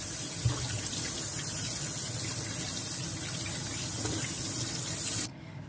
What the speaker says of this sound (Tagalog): Ayan, hugasan. Hugasan natin.